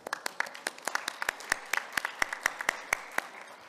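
A small audience at an African education technology conference claps in sparse, distinct, fairly quiet bursts. Individual hand claps are clearly separated over a few seconds.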